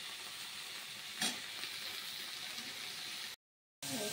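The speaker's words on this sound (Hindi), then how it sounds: "इसे उबाल के और मुझे इसको फ्राई करना है।" Boiled dried cauliflower fries in a pan in a village home kitchen, a steady soft sizzle running throughout, broken by one brief louder clatter and a short moment of silence near the end.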